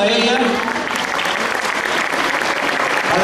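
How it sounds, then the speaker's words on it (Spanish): Dense, sustained applause from an audience fills the hall for a ballet teacher at a ballet performance, loud and continuous with crowd noise mixed in. "Le vamos a dar un aplauso a ella."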